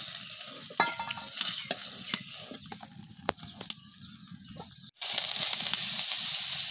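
Onion and chili added to hot oil in a wok after potato and pointed gourd were fried, in a village kitchen. Stirring scrapes and clinks over a low sizzle give way to a sudden loud, steady hiss.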